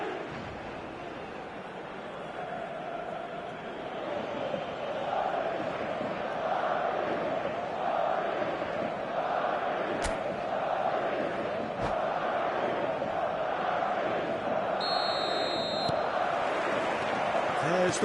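Stadium crowd in the eFootball 26 video game roaring as a steady dense wall of noise before kickoff, with a commentator talking over it.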